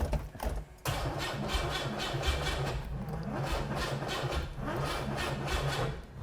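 Starter cranking a cammed, ring-gapped junkyard turbo engine in a DIY Syclone AWD S10 pickup, a steady rhythmic chugging of repeated compression pulses for several seconds without catching, loud and close, no talk.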